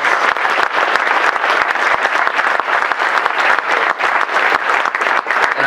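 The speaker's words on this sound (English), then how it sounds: "Give our speakers and panelists one more round of applause." An audience at a speaker-and-panelist event claps together in a dense, sustained round of applause that stays loud and even throughout.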